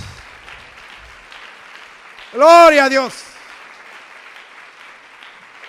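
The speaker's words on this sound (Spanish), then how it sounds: "¿Le pueden dar un aplauso?" Faint congregation applause in a Spanish-language church service, a thin steady patter under a loud shouted exclamation from a man partway through.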